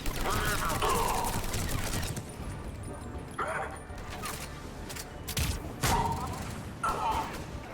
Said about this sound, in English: This gun is basically a sniper. Assault rifle sniper.